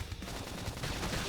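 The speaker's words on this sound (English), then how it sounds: "They'll follow with some gunfire." Dense, continuous gunfire from a battle in the video game Xenoblade Chronicles X, rapid overlapping shots rolling together into a steady low rumble with no voices.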